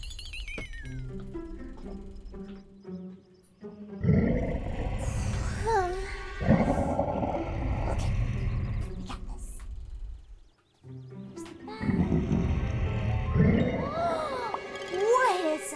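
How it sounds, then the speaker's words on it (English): A cartoon character snores loudly and continuously, with deep rumbling breaths in long repeated swells under a musical, animated soundtrack with some voices. "That noise is just him snoring the whole time."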